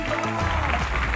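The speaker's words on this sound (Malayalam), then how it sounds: "അപ്പോ നന്നായിട്ട് കൈയടിച്ചു കൊടുക്കണം" A studio audience on a travel game show claps: a dense, steady wash of applause that fills the whole brief moment at a fairly loud level.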